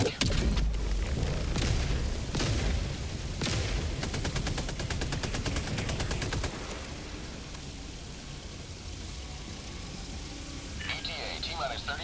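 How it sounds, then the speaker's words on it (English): Orbital strike bombardment in a video game: dense, loud booming and rapid crackling blasts for about six seconds, then a sudden drop to a quieter rumbling background with a faint electronic tone near the end. "Firing orbital strike."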